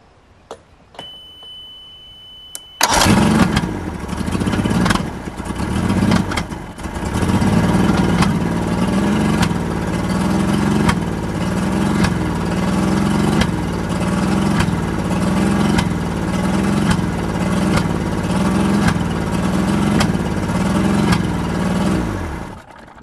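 A 1970 Mercury outboard motor cranks and fires, then idles roughly and lean at low revs with a steady uneven putter, loud and close, running on without voices.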